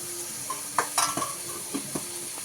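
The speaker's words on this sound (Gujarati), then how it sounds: "ને આ મીઠો ને હળદર કરીને આપણે આ ગ્રેવીને હલાવી લઈએ।" Pasta gravy seasoned with turmeric and salt is stirred in a pan, a soft sizzle beneath a handful of light spoon scrapes and taps against the metal.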